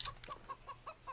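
A chicken clucks close by in a quick run of about six short, evenly spaced clucks.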